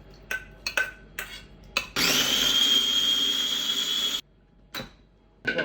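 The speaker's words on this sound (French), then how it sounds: "On va mettre ça dans un mixeur." A blender purees cooked fennel with its juices, a loud, steady whirring roar lasting about two seconds, framed by short clinks and knocks of kitchen utensils before and after.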